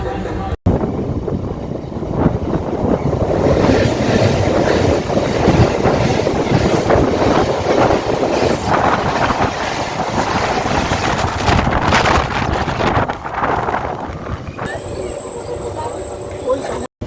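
A Barasat–Bangaon local train runs toward Habra station, a loud, steady rumble of carriage and track noise mixed with heavy wind buffeting, continuous throughout before it briefly quietens near the end.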